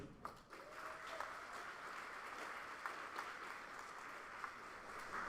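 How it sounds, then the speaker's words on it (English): An audience applauds at a high school extra-curricular awards ceremony, a faint, even wash of clapping that sounds distant in the hall and continues without a break. "You can hold your applause till the end"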